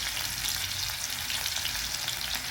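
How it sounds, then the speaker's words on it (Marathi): Onion fries in a pan over a medium flame, cooking for a spicy liver fry. A dense, continuous crackling sizzle runs close and steady throughout, with no voices. "कांदा चांगला होऊ द्यायचा मीडियम फ्लेमवर ठेवलेला आहे"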